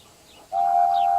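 A wooden toy train engine gives one steady, sustained whistle that starts abruptly and holds its pitch, loud and close, after a brief quiet moment with no talking.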